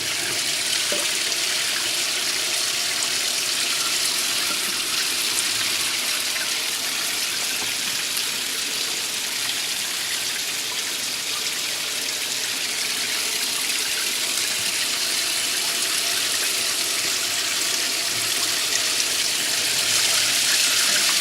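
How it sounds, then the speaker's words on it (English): Water runs from a small spigot to rinse a hydro dipping tub and drains out, making a continuous, fairly loud rushing wash that stays even throughout with no talking. "rinse my stuff. And you can see how it drains out"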